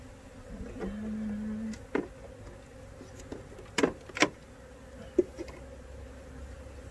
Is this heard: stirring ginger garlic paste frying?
no